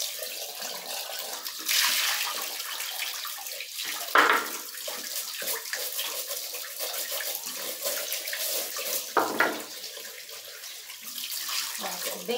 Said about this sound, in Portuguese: é enxaguar bem por dentro para tirar o excesso de areia